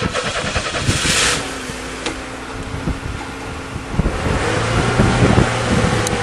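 An engine on a homemade farm rollercoaster revs with a sticking throttle, a loud rough drone held under heavy wind buffeting on the microphone, rising again toward the end and settling slowly.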